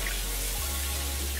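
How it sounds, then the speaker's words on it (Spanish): Running water from a kitchen faucet pours over strawberries as they are rinsed, giving a steady, close, even rush with no talking. "vamos a comenzar lavando las fresas. Las lavamos en el grifo."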